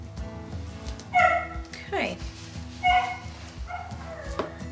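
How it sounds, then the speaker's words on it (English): An excited dog barks and yips repeatedly from somewhere below in the house, several sharp bursts with whimpering in between, while a person speaks briefly nearby. "My dog is going nuts down there"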